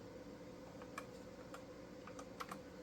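Keys tapped on a computer keyboard during a desktop streaming setup, a few scattered clicks over steady background hum, fairly faint and close.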